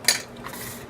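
A single sharp clink of cutlery against a dish comes as penne pasta is mixed with mushroom, ham and grated cheese, followed by a brief soft scrape, close and quiet.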